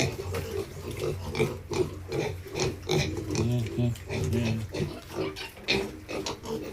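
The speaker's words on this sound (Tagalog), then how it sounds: "Ito na guys, ang aming kulungan ng mga baboy." Fat piglets in a pig pen, a litter of about thirteen, grunting and oinking almost continuously in rough bursts, close by, with some faint human voice in the background.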